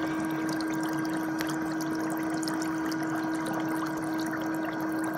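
Water bubbling and trickling in a foot spa during a bearded dragon's bath, a steady motor hum under continuous soft splashing and dribbling, moderate and close, with no talking.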